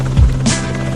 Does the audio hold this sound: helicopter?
yes